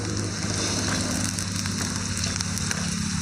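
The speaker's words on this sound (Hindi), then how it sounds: "और इसे हल्का सा हम चला देंगे चारों तरफ रोस्ट करने के लिए" Finely chopped onions sizzle and roast in a hot pan for chole, a steady dense frying hiss with scattered crackles and a low hum underneath, no voices.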